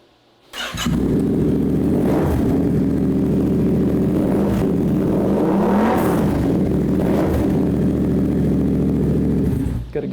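A show motorcycle's engine fires up and idles loud and close, with several blips of revving swelling and falling over a steady rumble.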